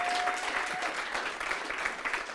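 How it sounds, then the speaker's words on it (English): Audience at a fintech blockchain event applauding a colleague's promotion, a steady, moderately loud round of clapping with a few voices beneath it. "everybody please give Katie a huge round of applause because she just got promoted"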